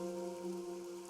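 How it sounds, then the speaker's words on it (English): Steady falling rain in the video game Raincode, a continuous soft patter over a sustained tonal music bed, with no voices. "The rain, it never stops."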